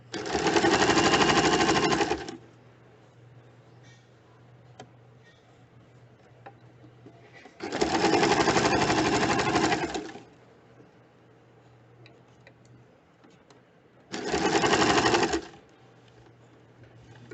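A home sewing machine stitches puff sleeve fabric in three separate bursts of rapid whirring, each a couple of seconds long, with a quiet low motor hum between them.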